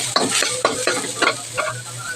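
Onions fry in a pan for a Filipino fish cardillo, giving a steady sizzle broken by about six rhythmic scraping stirs, close and fairly loud.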